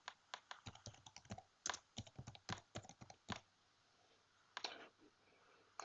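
Computer keyboard typing in bursts of quick clicks, near and fairly clear, with a pause before a final short flurry and no talk.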